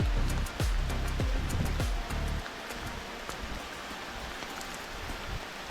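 Heavy monsoon rain on the road toward Dapoli near Chiplun, a steady broadband wash of downpour heard close, with thumps and knocks over the first two seconds before the rain carries on alone.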